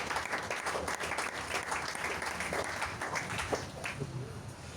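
A church congregation at a Pentecost service claps steadily and cheers, a dense and lively roar of hands and voices that runs the whole time, with some shouting mixed in.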